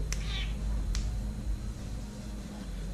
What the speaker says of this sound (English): Had to wave the cat off. Cat was getting annoying.